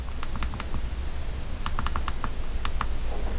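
Quick bursts of clicking as physical keys on an LG phone are pressed, arriving in short irregular clusters of light taps over a constant background hiss.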